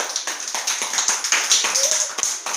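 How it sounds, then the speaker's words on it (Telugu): Children clap their hands in a quick, uneven patter of sharp close taps at an indoor activity session, with voices mixed in. "క్లాప్స్ కొట్టండి. క్లాప్స్ అంటే కొట్టండి."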